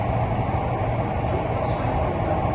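A Mumbai metro train rumbles along, heard from on board as a steady low-pitched roar with a constant mechanical drone and no clear breaks.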